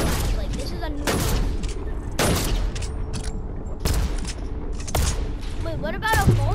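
Rapid bursts of gunfire from a new gun in a video game, loud and close, repeating in several heavy volleys.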